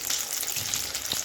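Fish chops made from loote fish deep fry in hot oil, giving a dense, even bubbling sizzle with fine crackles, close and steady throughout.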